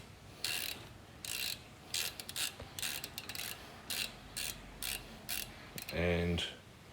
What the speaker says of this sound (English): Both the bolts back in, and tighten up.